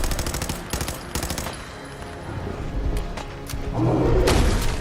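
Gunfire in the video game Fallout 4, with rapid bursts of automatic shots striking around the player at close range, sharp repeated cracks at the start, then a rumbling, thudding impact toward the end.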